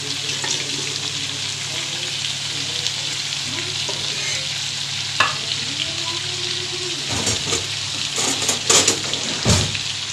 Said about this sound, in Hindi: तो इसको हम अच्छे से भूनेंगे।